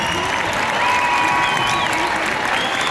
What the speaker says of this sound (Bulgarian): Аплодисменти за нашите гости ансамбъл